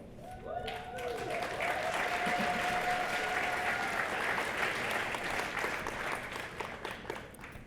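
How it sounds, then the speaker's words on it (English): A banquet audience at a Women of Distinction event applauds Kathleen Wilson, a full wash of clapping that rises quickly and holds for several seconds before tapering, with a voice briefly heard at the start. "We applaud"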